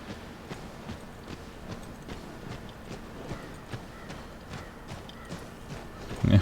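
Steady clip-clop of a walking horse in Assassin's Creed III video game, evenly paced hoof falls at moderate volume with a soft background bed and a brief louder burst at the end.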